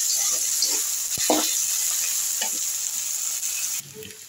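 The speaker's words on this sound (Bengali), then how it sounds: "চিংড়ি মাছগুলো আর পেঁয়াজগুলো ভাজা হয়ে গেছে" Shrimp and onions sizzle steadily in a hot pan with a bright hiss, punctuated by a few scraping stirs, before the sizzle abruptly cuts off.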